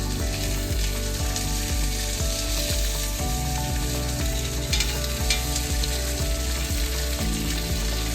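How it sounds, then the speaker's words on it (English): Salmon simmering in a pan over low heat, giving a steady, continuous sizzle with a repeating rhythmic scraping or stirring pattern throughout, close up and without speech. "Turn your salmon to low heat and just let it simmer."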